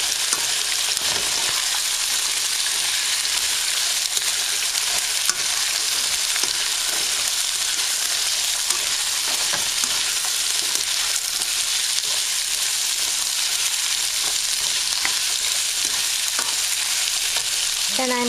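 Vegetables stir-fried in a hot pan give a loud, steady sizzle and crackle that runs unbroken throughout, with faint scraping from stirring and no talking.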